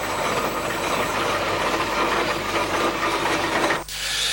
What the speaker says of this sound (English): big Fowler Showman's engine